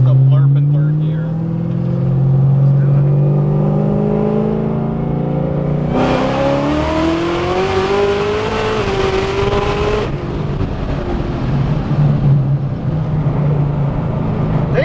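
A 1,000-horsepower Camaro SS street car on pump fuel with methanol accelerates hard in third gear, its engine roaring loud and close and climbing in pitch, with voices talking over the run.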